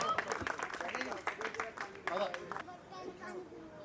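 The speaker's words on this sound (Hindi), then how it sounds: "तो एक बार जोरदार तालियां प्लीज." An audience at a community premier league awards night breaks into applause, a dense rattle of clapping mixed with voices that thins out abruptly partway through, leaving quieter chatter.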